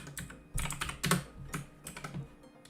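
Rapid keystrokes on a computer keyboard sitting right behind a microphone, clacking close and fairly loud in uneven bursts for a few seconds with no talking.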